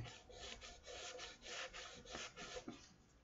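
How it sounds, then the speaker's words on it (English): Fine 400-grit sandpaper rubbing along the side binding of a guitar body, a steady close scratchy rasp in uneven back-and-forth strokes with no talking. "right now I'm using 400 sandpaper"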